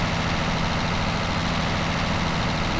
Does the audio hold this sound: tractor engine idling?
yes